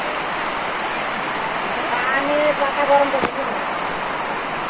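Heavy rain pours down in a steady, dense wash of noise that fills the whole stretch, with faint children's voices rising briefly in the middle.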